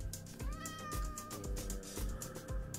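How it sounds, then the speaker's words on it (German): A black cat in Minecraft meows repeatedly in quick succession, drawn-out tonal cries over a background of game music, fairly faint. "Das ist eine Katze."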